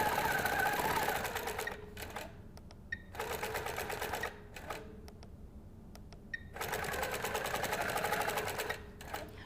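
Home sewing machine free-motion quilting meander lines, running in steady bursts of rapid stitching separated by short pauses, close and clear.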